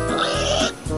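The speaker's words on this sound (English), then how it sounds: "Oh no, some pigs have wandered off from the farm." Pigs oinking and grunting near a farm on a toy train set, a cluster of close, loud snorts with a brief pause before more grunts.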